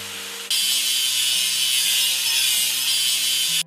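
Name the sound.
grinding a seam on a dump truck in a video game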